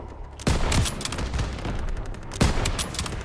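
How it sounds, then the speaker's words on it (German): Gunfire in the World War II shooter Call of Duty WWII: sharp, close gunshots crack out over a rattling backdrop of distant volleys, with two especially loud reports about two seconds apart. "Ich hab ihn gerade in den Kopf geschossen."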